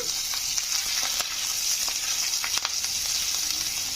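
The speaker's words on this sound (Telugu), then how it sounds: "కొంచెం ఫ్రై అవ్వనివ్వాలండి" Ginger, green chillies and curry leaves fry in a pan for a masala dosa curry, with a steady bright sizzle, a few faint stirring clicks, and no voices.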